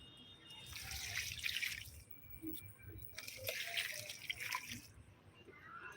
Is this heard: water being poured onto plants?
yes